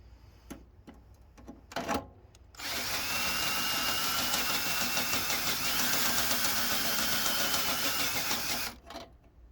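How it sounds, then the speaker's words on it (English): A power drill bores a hole in a vehicle frame: a few short clicks and bursts, then a loud, sustained whining grind for about six seconds before it stops abruptly. "So, first hole drilled out."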